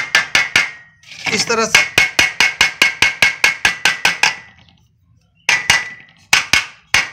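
A hammer strikes a pressure cooker being repaired, producing loud, sharp metallic clangs in a steady rapid rhythm, a pause, then a few more blows, with someone speaking briefly during the hammering.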